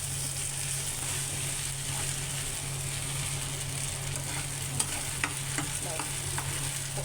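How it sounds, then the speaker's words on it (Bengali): Noodles being stirred in a hot frying pan, a steady close sizzle with soft scraping and a few light metallic clicks from the utensil, no voices. "এরপর আমার নুডলসটা রান্না করা হয়ে গিয়েছে। সুন্দর করে নেড়ে চেড়ে নিয়েছি।"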